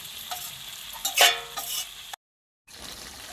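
Local duck meat stir-frying in a pan, a loud close sizzle with spatula scrapes and stirs, broken by a brief silent gap before the frying resumes.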